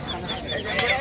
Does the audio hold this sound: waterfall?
no